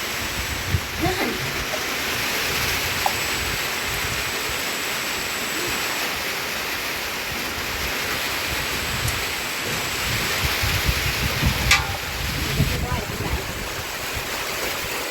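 Heavy rain pours steadily through a cold night storm, a dense, loud, unbroken wash of hiss with a few faint knocks and shifts in the background.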